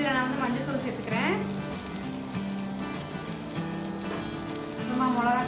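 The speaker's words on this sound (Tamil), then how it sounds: "இதோட பச்சை வாசனைலாம் போகிற அளவுக்கு கொஞ்சம் நேரம் வதக்குங்க" Capsicum sautés in a pan with turmeric, giving a soft, steady sizzle with faint stirring scrapes underneath, while a voice talks over it.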